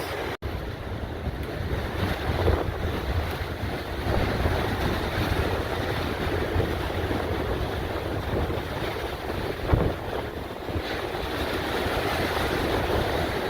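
Rough surf washing and breaking onto a shore as the tide rises, a steady loud roar of waves with gusting wind buffeting the microphone throughout, one brief knock near the end.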